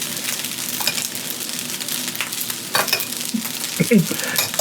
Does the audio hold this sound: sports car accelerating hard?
no